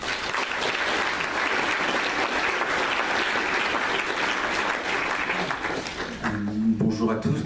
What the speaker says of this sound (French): je vous demande de le remercier en l'applaudissant